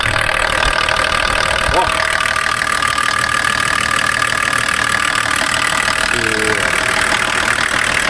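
A Volvo 740's D24TIC turbo-diesel idles with a rough, knocking shake, a loud steady rumble throughout with a short exclamation from a nearby person.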